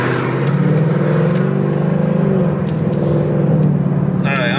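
A Ford Mustang in sport mode accelerates hard in third gear, its engine droning loud and steady with a rising, layered roar that stays close the whole time.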